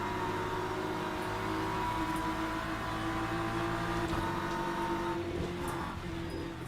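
Engines roar steadily as several GT3 race cars in the video game Le Mans Ultimate drive past in a continuous whine, with no talking.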